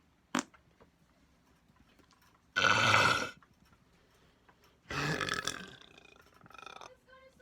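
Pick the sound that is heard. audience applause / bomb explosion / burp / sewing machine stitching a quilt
burp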